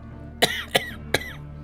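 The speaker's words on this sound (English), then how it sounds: "This is what's called, I think officially, is called a post-viral cough." Three sharp, dry post-viral coughs in quick succession, close up, each a short harsh burst.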